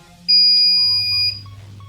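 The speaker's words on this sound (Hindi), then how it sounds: "इसीलिए हमको लॉन्ग बीप सुनाई दिया" An ECO 5 security panel gives a single long tonal beep signalling a motion sensor timeout, loud and close, lasting about a second before cutting off into quieter background hum.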